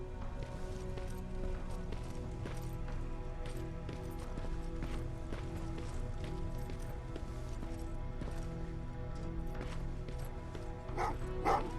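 Dogs in the Terminator: Resistance video game barking among steady background noise and hoof-like clopping, the barks distant and muffled, with a louder cluster near the end.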